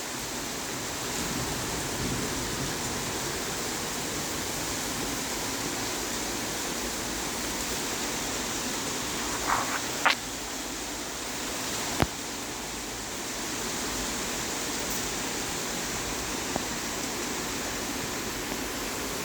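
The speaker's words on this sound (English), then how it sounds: "It's raining." Heavy rain falls steadily as a dense, even hiss throughout, with a few faint knocks and clicks near the middle and no voices.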